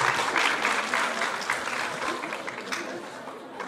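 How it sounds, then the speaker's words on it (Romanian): Sustained applause from a school audience at an autumn festival parade of fifth-grade designers and models at a technical college, a dense, steady wash of clapping that fades slightly toward the end. "Să aplaudăm pe micii noștri designer și modele de la clasa 5-a C."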